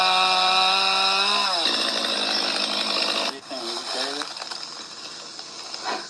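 Chainsaw cutting through a tree, a loud continuous engine drone that drops in pitch as the chain bites into the wood, then revs and bogs again over several seconds.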